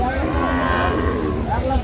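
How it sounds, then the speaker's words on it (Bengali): Cattle, including Sahiwal bulls, low at a busy rural cattle market, the moos close and mixed with steady crowd noise and bargaining voices. "গরুগুলো কিনছেন মঙ্গল ভাই"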